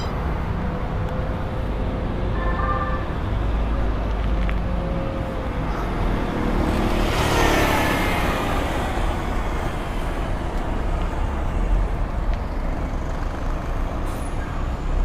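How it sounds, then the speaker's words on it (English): Steady roar of busy road traffic in East Kilbride, Scotland, with trucks, cars and buses passing continuously at close range, swelling as a heavier vehicle goes by mid-way, no talk over it. "Traffic's really busy here today."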